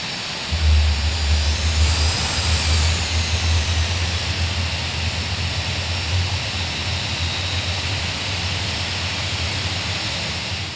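Start-up of engine 1 on a simulated Douglas DC-8 jetliner in FSX, a climbing turbine whine over a constant low hum, growing louder and then holding at an even roar for several seconds.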